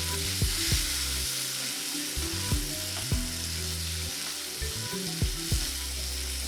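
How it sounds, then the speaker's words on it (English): Frozen chips masala with tomatoes frying in a pan, a steady loud sizzle punctuated by repeated clacks of a spoon stirring against the pan, close up with no talking. "You stir."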